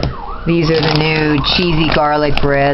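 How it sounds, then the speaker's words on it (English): A siren wails from outside, passing the house as a rising and falling tone under nearby speech. "excuse the siren"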